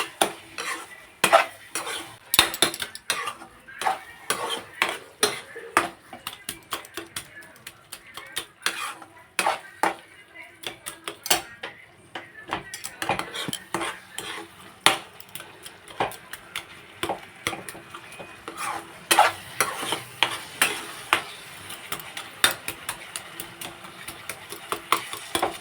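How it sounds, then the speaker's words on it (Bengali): A spoon stirs a carrot dessert in a pan, scraping and clinking in an irregular stream of sharp knocks and rasps, with a faint sizzle of cooking underneath. "এখন খুব করে নাড়াতে হবে।"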